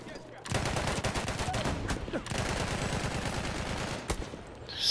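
Gunfire in the video game Battlefield 1, a dense fusillade of rapid shots and crackling bursts that runs almost without pause at moderate distance.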